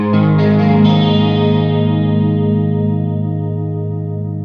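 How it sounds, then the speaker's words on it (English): An electric guitar chord played through overdrive followed by a chorus effect rings out loud with a shimmering, chorus-like wobble, then sustains and slowly decays over a few seconds. "The chorus, for me, sounds better after the overdrive."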